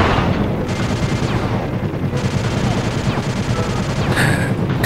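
Dense, continuous game gunfire rattles throughout, sustained automatic bursts layered with repeated shots that stay loud and close without pause, ending with a brighter sharp burst near the close.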